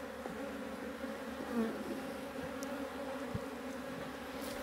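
Honeybees buzz in a dense steady drone around an opened beehive, a continuous close hum with no voices.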